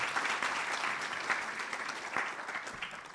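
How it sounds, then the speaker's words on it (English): An audience in a university auditorium gives a round of applause after a public lecture by Norway's foreign minister, a fairly faint but continuous wash of clapping throughout. "Give yourselves another round of applause, everybody."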